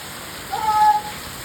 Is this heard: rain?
yes